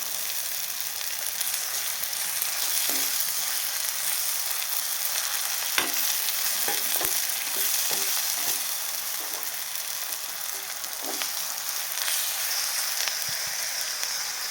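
A tadka for dahi tadka sizzles steadily in a pan, a bright continuous frying hiss with scattered spatters and occasional scrapes or knocks from stirring, and no talking.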